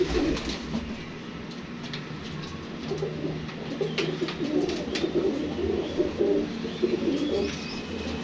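Pigeons coo steadily in a loft where a male is being paired with a female for a breeding setup, with low, continuous cooing and scattered chirps from nearby birds over a constant background hum.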